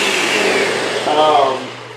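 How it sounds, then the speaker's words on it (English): A blender runs steadily, whirring through vegan cashew cheese after about two minutes of blending, a loud continuous motor drone that shifts slightly in pitch near the end. "now it's been in the blender about 2 minutes"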